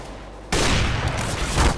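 R8 Revolver gunfire in the CS:GO video game, a sudden loud blast after half a second of quiet, followed by sustained, dense firing noise to the end.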